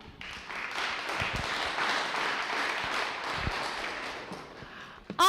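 Audience applause at a summit on police culture, a steady wash of many hands clapping held for about five seconds at moderate level, ending in a brief loud knock.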